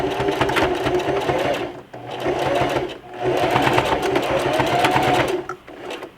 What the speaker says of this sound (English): And I just like to straight stitch this edge.